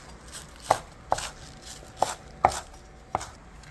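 Small green onions are chopped with a knife on a board in five sharp, distinct knocks at an uneven pace, close and clear against a quiet background.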